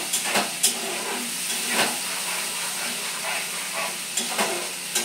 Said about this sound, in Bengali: এটাকে আর ভালো করে একটু কষিয়ে নেব।